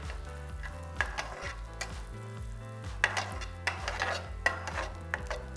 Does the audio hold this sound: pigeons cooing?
no